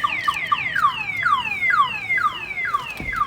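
A Viper car alarm installed in a 2000 Toyota 4Runner, triggered by an opened door, wails close and loud in a rapid repeating siren of falling sweeps, alone without speech.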